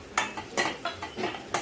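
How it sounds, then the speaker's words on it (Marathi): Spices frying in oil with soft cooked onion in a pan, stirred in a quick rhythm of about five scraping strokes over a low sizzle, close by, no talking. "आणि मसाल्यांना छान तेल सुटेपर्यंत आपण फ्राय करून घेऊया।"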